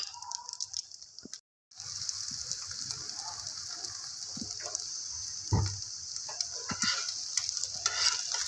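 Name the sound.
eggs frying in a pan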